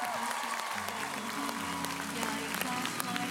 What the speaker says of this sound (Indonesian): Boleh saya minta tepuk tangan tadi semuanya udah ikut